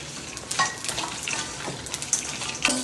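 Whole cumin, fennel and green cardamom roasting dry in a pan for garam masala, with a soft steady crackle and sizzle, light stirring scrapes and a few brief clinks, fairly close and quiet.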